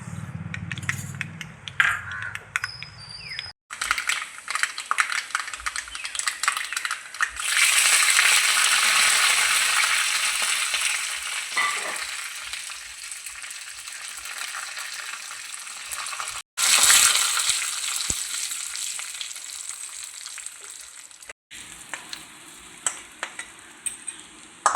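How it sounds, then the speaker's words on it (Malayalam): Mustard seeds, dried red chillies and curry leaves tempering in coconut oil in a pan, a loud continuous sizzle and crackle with occasional stirring clinks, broken by brief pauses. "നമ്മളൊരു ചട്ടി വെച്ച് വെളിച്ചെണ്ണ ഒഴിച്ച് കടുകും വറ്റൽമുളകും കറിവേപ്പിലയും കൂടിയിട്ട് ഇതിലേക്ക് താളിക്കാൻ പോകുന്നു"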